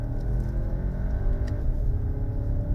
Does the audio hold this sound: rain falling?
no